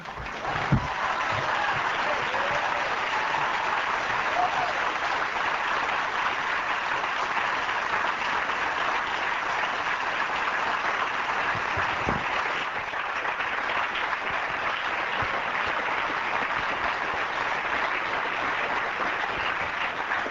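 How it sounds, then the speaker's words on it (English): Steady, full applause from a large audience at a 1982 film festival screening at UCLA, a dense wash of clapping that holds evenly for about twenty seconds. "Let's have one more round of applause for all of them, please."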